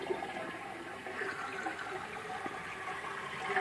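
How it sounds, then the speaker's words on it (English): A freshly repaired leaky toilet flushes, water rushing and swirling steadily at close range, then continuing as a softer gurgling refill. "Let's see if it flushes."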